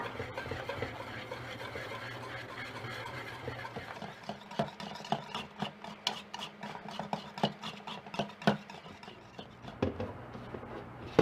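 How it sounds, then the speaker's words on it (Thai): Scraping and rubbing of a utensil stirring thick Thai sweet dough in a pan as it dries and pulls away, with rhythmic clicks and scrapes becoming more frequent midway. "จากนั้นเราจะกวนต่อไปเรื่อยๆจนกระทั่งส่วนผสมแห้งแล้วก็ร่อนออกจากกระทะค่ะ"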